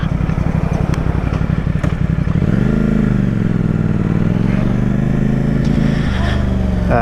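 A CF Moto 450 SR-S parallel-twin sports bike ridden on the road: a loud, close engine note that pulses at idle, then rises as it accelerates through the revs and holds a steady drone, with some wind and clatter.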